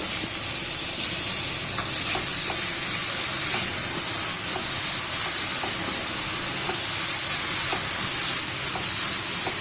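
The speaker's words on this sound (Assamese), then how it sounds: "এইখিনি অকণমান ভাজি হয়" Chili paste and garlic paste fry in a pan over a low flame with a steady, close sizzle and an even hiss, broken by light scraping stirs.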